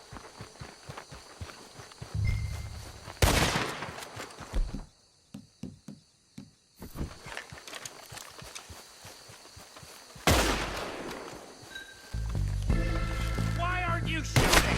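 A Red Dead Redemption 2 gunfight, with scattered gunshots, footsteps and galloping hooves amid shouting voices, a brief near-silent gap, then a rising musical swell.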